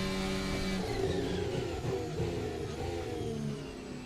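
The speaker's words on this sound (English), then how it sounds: "Sad Ferrari noises." Ferrari engine in a sim racing game's Formula Alpha car, a steady droning mid-pitched engine tone with slowly shifting harmonics, held at a constant level for several seconds with no talk.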